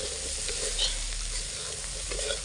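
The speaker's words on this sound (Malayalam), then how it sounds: "എന്നിട്ട് ഇളക്കി കൊടുക്കണം" Cowpeas roasting in a hot pan, stirred steadily with a constant dry sizzle and scraping, close and fairly loud with no talking throughout.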